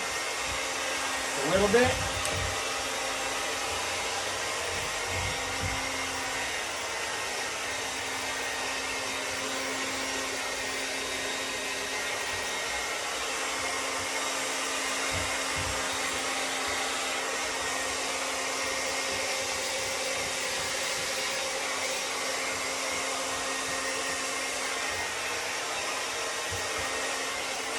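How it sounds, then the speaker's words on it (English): A hair dryer blows steadily on badger fur for nearly half a minute, a loud, constant whirring rush close by, with a brief voice and a few faint handling bumps near the start. "next thing we're gonna blow dry this"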